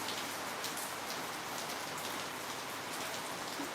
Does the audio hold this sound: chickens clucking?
no